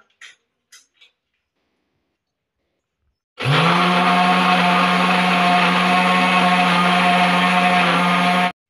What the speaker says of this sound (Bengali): এই দেখুন আমি মূলা কিন্তু ব্লেন্ডার করে নিয়েছি